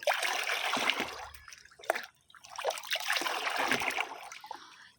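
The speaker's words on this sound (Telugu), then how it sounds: "ఎర్ర అలసందల వాటర్ యాడ్ చేసేసాను వన్ లీటర్ ఒక్కసారి మిక్స్ చేసేసుకుందాము" Red cowpea soaking water, about a litre, being stirred into water meant for plants: close, steady sloshing and trickling swirls with a brief pause near the middle, no talk.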